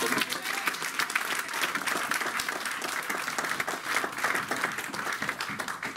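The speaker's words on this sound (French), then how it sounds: "Donnons quand même une acclamation." Applause and cheering from a church congregation, dense continuous clapping with scattered crowd voices, held at an even, fairly loud level for several seconds.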